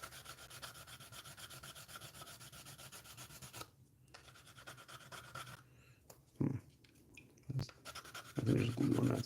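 A part from a 1/60 NeoGrade Sazabi model kit is rubbed with a sanding stick that has glue on it, giving a steady, close, dry scratching texture that turns into a few louder, sharper strokes toward the end.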